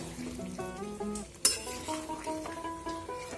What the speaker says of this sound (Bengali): আমি ক্যাপসিকাম কিছুটা হালকা তেলে ভেজে রেখেছিলাম, এটা দিয়ে দেবো। দিয়ে এটা মিশিয়ে নেব।